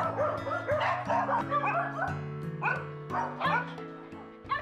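Several adopted dogs bark, yip and whimper at a rescuer's home, with overlapping close yaps and whines repeating in bursts across the clip, no talk.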